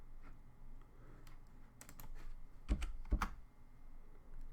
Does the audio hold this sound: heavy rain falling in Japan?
no